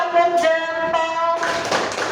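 A primary class performs a thumb-clap routine, with children's voices chanting in unison over a few light, quick hand taps and claps that grow busier toward the end.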